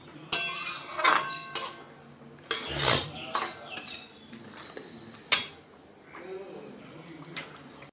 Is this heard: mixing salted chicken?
yes